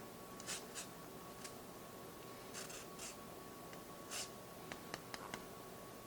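Lemon peel is scraped against a zester in soft, short strokes, several quiet rasps at uneven intervals over a faint background hum.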